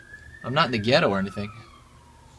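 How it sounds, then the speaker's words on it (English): An ambulance siren passes outside, a thin wail gliding slowly downward in pitch as it moves away, fairly faint and steady beneath someone speaking indoors. "I think there's an ambulance going by."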